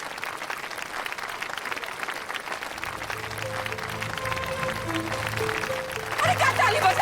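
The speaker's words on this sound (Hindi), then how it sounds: "जोरदार तालियां बजाइए।" A gathered crowd at a village panchayat breaks into steady, broad clapping that grows fuller midway, with voices murmuring underneath.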